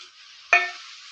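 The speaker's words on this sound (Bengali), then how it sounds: "ওইটা দিয়ে একটু নাড়িয়ে আবার একটু সাতলিয়ে নেব, আবার একটু কষিয়ে নেব" Coconut paste ground with garam masala being stirred and sautéed in a pan, a soft steady sizzle broken by one sharp clatter of the spoon midway and another scrape at the end, close and alone.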